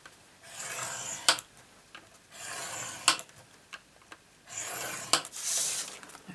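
A scoring tool drawn along cardstock in several separate passes makes soft rasping rubs, each with a tap at its start or end, close and quiet, with no talking.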